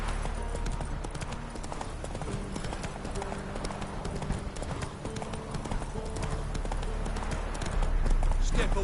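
Horse hooves gallop in The Witcher 3, a fast, dense clip-clop rhythm running continuously over a steady low rumble of game ambience, with a voice briefly heard.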